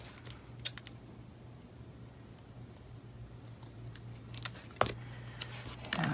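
Scissors snip through planner stickers in short crisp clicks, a few scattered early and a denser cluster near the end, close and quiet over a low steady hum.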